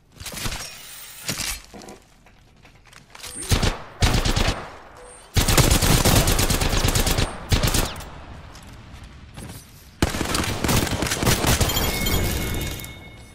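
Automatic gunfire from the video game Apex Legends rattles in loud, dense bursts, with long sustained volleys in the middle and end, mixed with sharp impacts and breaking, shattering effects.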